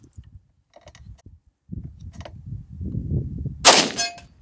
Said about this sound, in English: Let's take a few shots here without the suppressor, and we'll see how it runs as well with this 180 grain.